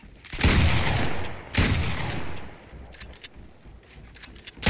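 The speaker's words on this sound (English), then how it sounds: "Oh, I'm getting shot at." Gunfire in a Fortnite creative-mode match: two loud close bursts of rapid shots with booming tails, followed by quieter scattered pops and one last sharp shot at the end.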